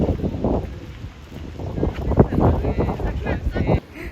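Strong wind buffets the microphone beside a palace fountain in Salzburg, making a heavy, gusting low rumble, while voices can be heard under it.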